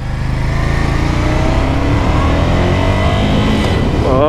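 A 2017 Ducati Monster 797 motorcycle engine accelerates loudly and close by, its pitch rising steadily through the gear before a quick shift at the end.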